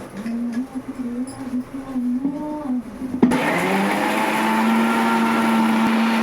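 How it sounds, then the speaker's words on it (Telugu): A kitchen mixer grinder starts abruptly partway through and runs steadily, loud and close, whirring as it grinds boiled mushrooms into a curry paste; before it starts, quieter room sounds and a faint hum are heard. "మిక్సీ ఆడిస్తుంది"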